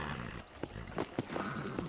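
Horse hooves clip-clop in Red Dead Redemption on PS5, a handful of uneven thuds spaced across a couple of seconds over a low background bed.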